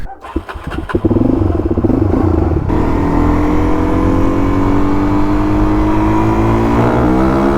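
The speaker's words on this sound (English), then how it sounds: "I don't care. I just rev it." A Suzuki DRZ400 dual-sport motorcycle engine is revved hard and held at high revs, a loud, steady close-up roar that rises sharply after a brief start and stays at full volume.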